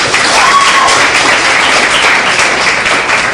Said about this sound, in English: And another round of applause for everybody who's gone so far.